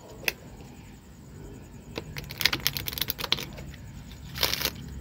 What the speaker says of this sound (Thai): ผมจะทำการสับไพ่ทีหนึ่ง ให้ไพ่มันคละกันจากนั้นกรีดไพ่นะครับทีหนึ่ง